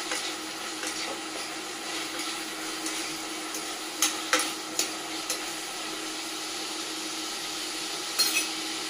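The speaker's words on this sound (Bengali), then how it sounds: "ভাজা ভাজা করে নেব।" Raisins and cashews fry in a pan for a Bengali quinoa pulao, giving a steady soft sizzling hiss with a few light clinks scattered through it. No one speaks.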